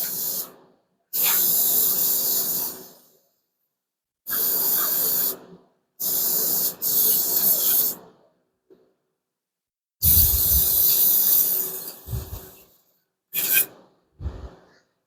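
Brake cleaner hisses out of an aerosol can onto parts of a Plymouth Duster 5.7 Hemi engine build in loud, sharp bursts of one to two seconds, with several sprays separated by silence and a short final puff.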